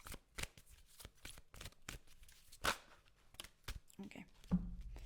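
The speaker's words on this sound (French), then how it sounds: "je vous donne une petite carte pour finir" Tarot cards are shuffled and drawn during a reading. Close, crisp riffles and sharp snaps arrive in irregular bursts, ending with a card slapped down, and faint murmured speech sits underneath.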